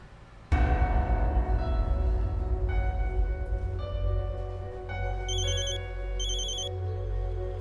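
A telephone rings in a Hindi TV drama scene, its electronic bell tones entering sharply and repeating in bursts over a steady low hum, with no voices.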